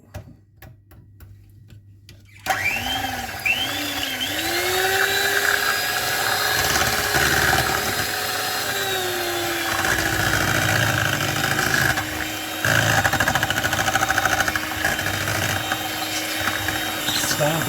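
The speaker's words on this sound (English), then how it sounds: "Now I'll get the mixer out and beat the hell out of it." An electric hand mixer switches on and beats cake batter for a cookies-and-cream cake, whirring close and loud with a steady motor whine that shifts pitch slightly as it works through the mix; a voice briefly speaks over it.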